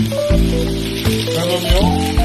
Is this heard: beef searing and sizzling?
yes